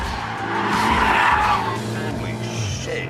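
A 2019 BMW M5 with all-wheel drive drifts with tires squealing loudly and continuously, the engine roaring close by throughout.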